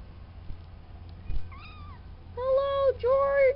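Farm kittens mew in short high-pitched cries, a couple of faint ones followed by two louder, drawn-out meows close by, over a quiet background.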